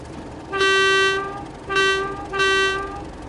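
The horn of a BR Class 31 diesel locomotive in the Train Sim World 5 railway simulator sounds three times: a long blast, then two shorter ones. Each blast is loud, close, and steady in pitch.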